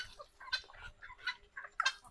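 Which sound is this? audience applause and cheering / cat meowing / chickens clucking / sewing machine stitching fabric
chickens clucking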